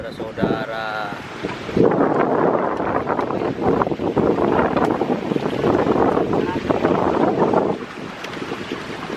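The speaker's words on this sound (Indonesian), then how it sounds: "Tampaknya angin sangat besar, saudara-saudara." Strong wind gusts blast across the microphone at Jatiluhur reservoir during a fishing trip, a loud roaring rumble that swells after a brief quieter start and stays heavy, with water wash beneath and no clear talk.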